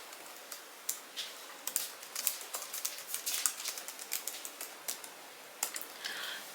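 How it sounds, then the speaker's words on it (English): Keys on a computer keyboard clatter in a quick, irregular run of light taps, typing into ChatGPT, fairly close and fairly quiet, with no talking. "So basically what I typed into the ChatGPT box"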